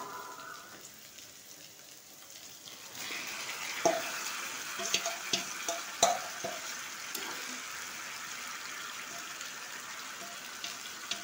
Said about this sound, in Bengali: এখন আমি মেখে রাখা মাংসটা এই ভিতরে দিয়ে দেবো।